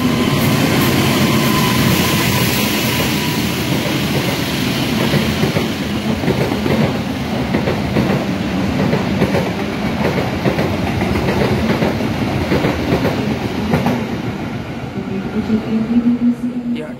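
KA Singasari passenger train standing at Cirebon station: a steady low rumble of idling equipment and station ambience runs throughout, loud and close, with faint clanks and a rising tone near the end.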